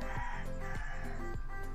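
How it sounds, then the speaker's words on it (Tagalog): Chickens crow and cluck in the background behind the steady whir of an electric fan, with no talking. "maririnig pa rin yung mga manok,"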